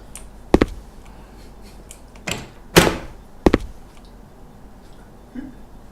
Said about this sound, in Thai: ประตูเปิดเองฮะ